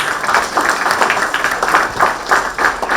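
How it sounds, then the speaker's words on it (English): An audience at a climate plenary session applauds steadily throughout, a dense wash of many hands clapping in a conference hall with no break. "Can we have a round of applause for sir, please?"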